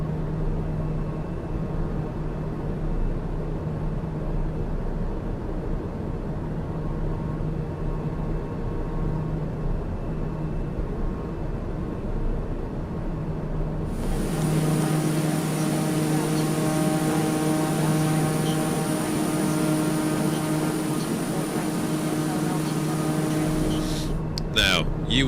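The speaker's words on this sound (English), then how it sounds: "the engine is so loud that you can't hear anything" A steady, loud drone of a TBM 850 single-engine turboprop in Microsoft Flight Simulator, flying from Pau over the Pyrenees toward Barcelona, with the tone shifting partway as the view changes; someone talks over the engine.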